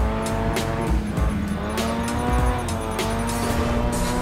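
Race cars battling for position in the GRID 2 racing game, with loud, continuous engine roar, tire squeal and rapid gear-change bursts close up, no talking.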